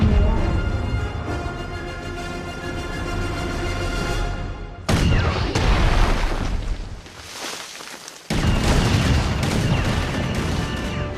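Heavy gunfire from the video game Destiny 2 rolls on as dense, continuous bursts of shots and booming blasts, loud and sustained throughout with a brief drop near the middle before the barrage surges back.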